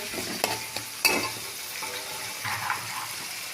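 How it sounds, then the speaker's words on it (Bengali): Potatoes, tomato, salt and turmeric fry in a kadai for a cabbage dish with fish head, with a continuous sizzle and a spatula scraping and knocking against the pan, close and fairly loud. "হলুদ দিয়ে একটু নেড়ে চেড়ে নিচ্ছি।"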